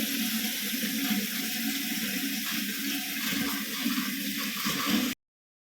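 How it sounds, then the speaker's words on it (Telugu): Tap water running steadily into a bottle and a metal water pot, a continuous close rushing and splashing that holds an even level for about five seconds before cutting off abruptly. "ఇంకా బాటిల్లో అయితే పట్టేశాను ఇంకా బిందెలో అయితే పడుతున్నాను"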